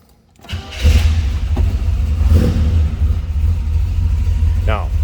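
A 1970 Chevrolet Chevelle cranks briefly and fires up, then settles into a loud, steady, deep-throated idle with a couple of light revs. A short voice sound comes over the engine near the end.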